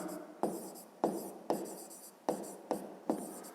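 A pen writes an answer to a fifth-grade maths exercise, giving seven or so crisp strokes at a steady pace, close and alone with no voices.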